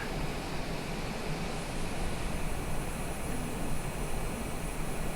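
Steady, even roar of a Cessna Citation business jet in cruise flight, heard from the cabin or cockpit in a flight simulation, continuous broadband engine and wind noise with no breaks.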